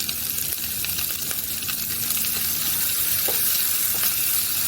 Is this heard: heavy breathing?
no